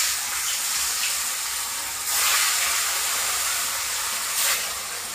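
Rohu fish pieces sizzle in hot oil as they go in one by one, a steady frying hiss with two louder surges as more pieces are added.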